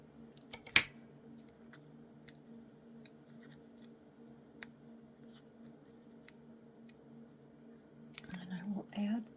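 Scissors cut paper for a circular junk journal collage built on a drink coaster, giving a sharp close snip followed by quiet rustling and soft handling sounds, then a short flurry of cutting and paper noise at the end.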